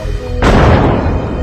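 A pistol shot in a movie scene, in which a woman takes up the gun: a single loud, close boom cracks over a steady background, leaving a broad, decaying roar behind it.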